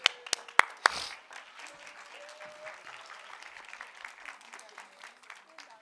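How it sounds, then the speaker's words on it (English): A few sharp, close claps open a round of applause for a volunteer at a talk. A softer, scattered clapping from the audience follows and continues faintly in the background. "Give her a round of applause."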